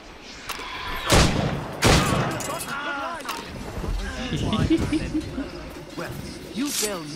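Gunfire in the video game Assassin's Creed Rogue: two sharp, loud shot bursts land early and are followed by softer clattering game noise, while someone talks over the action.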